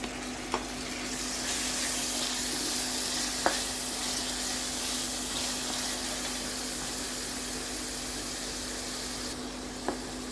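Peeled potatoes fry in hot oil in a pan for a lamb mechado, giving a steady close sizzle throughout with a few sharp clicks of a utensil against the pan.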